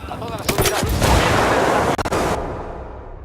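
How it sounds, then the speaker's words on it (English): Mortar fire and explosions in the video game Ghost Recon Wildlands: sharp reports followed by a loud, rumbling blast that swells and fades over a couple of seconds. "Uh-oh, mortar, get out of that."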